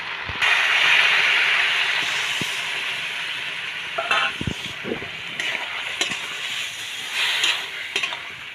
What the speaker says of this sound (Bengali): এই সর্ষে আর একটু পোস্ত ভাতা দেওয়ার জন্য তরকারিটা পুরো এবারে একটু সুন্দরভাবে ফুটছে